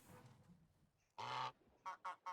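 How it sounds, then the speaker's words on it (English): A duck sounds off in a few short, nasal honking quacks: one longer call mid-clip, then three quick bursts close together near the end, fairly close against a quiet background. "So I could hear the duck going to the right"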